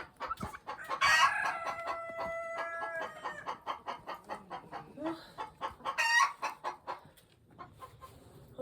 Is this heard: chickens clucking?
yes